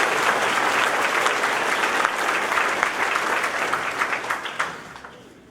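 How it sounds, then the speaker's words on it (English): An audience at a college sendoff event applauds a scholarship student with steady, full clapping that thins into scattered individual claps before stopping. "please, everybody give Tyler a big round of applause"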